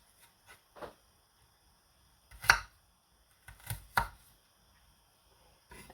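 Knife chopping celery into small thin pieces on a cutting board, a few scattered sharp cuts with pauses between them, close and fairly quiet.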